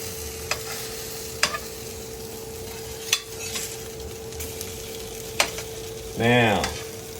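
Eggs fry in a pan with a steady soft sizzle, broken by a few sharp utensil clicks and a brief scraping stir near the end.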